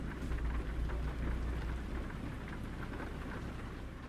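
Heavy rain pours nonstop in American Truck Simulator, loud and dense. A low rumble underneath suggests thunder or the truck, and nobody speaks.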